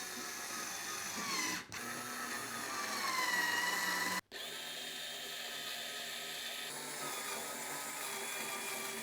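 A lightweight Stalwart cordless electric screwdriver drives screws while putting up shelves. Its steady, high motor whine runs close and alone, dropping out briefly twice before carrying on.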